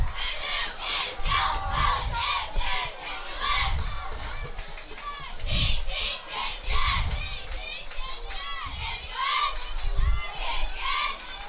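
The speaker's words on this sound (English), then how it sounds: "It's a big crowd of cheerleaders for the Mustangs, too. You can hear them." A large crowd of cheerleaders shouts rhythmic chants at a high school football game, Oologah vs. Miami, loud and sustained in repeated bursts with a low rumble beneath.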